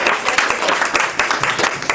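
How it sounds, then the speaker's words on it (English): Audience claps at a Srimad Bhagavatam session in a Hindu cultural centre in Bensalem, a close, loud, busy patter of many hands sustained for about two seconds. "Big round of applause."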